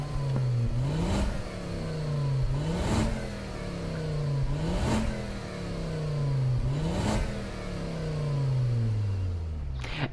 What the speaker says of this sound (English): The car doesn't sound really great, I'm not gonna lie.